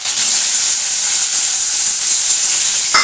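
Onions sizzle steadily in hot oil in a wok over a lowered gas flame, a loud, continuous broadband hiss with a brief scrape near the end.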